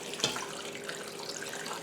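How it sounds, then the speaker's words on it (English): Tap water runs into an Instant Pot for beef bone broth, a steady close splashing stream with a brief louder gush at the start and no talking. "I'm just going to add water"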